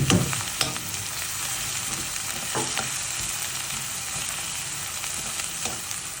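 Ginger garlic paste and chopped green chillies frying with onions for dhaba-style chana dal give a steady, close sizzle with occasional stirring scrapes and no talking.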